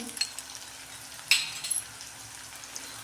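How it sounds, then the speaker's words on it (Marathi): Onion frying with ginger-garlic paste in a pan makes a faint, steady sizzle, broken by a few light clinks of a spoon against the pan. "बघा कांदा भाजतोय"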